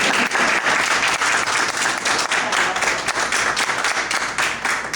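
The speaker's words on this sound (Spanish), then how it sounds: "le damos un aplauso a Carolina." Audience at a talk on nineteenth-century social customs breaking into dense, sustained applause to welcome a speaker, a loud and even wash of many clapping hands.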